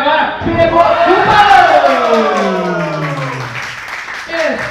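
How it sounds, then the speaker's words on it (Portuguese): Crowd at a CFW wrestling show between Crazy-b and Mary "Crazy Fox" roars and claps loudly throughout, with cheering and shouts under an excited commentator's voice. "Aplausos!"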